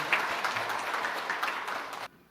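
A church congregation applauds warmly, a dense steady patter of clapping that stops abruptly near the end.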